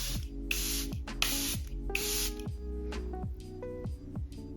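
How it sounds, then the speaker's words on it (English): Charlotte Tilbury Airbrush Flawless Setting Spray fired in several quick close bursts of fine hissing mist, short sharp puffs over a low steady hum with music faintly underneath. "I'm going to take my Charlotte Tilbury Airbrush Flawless Setting Spray."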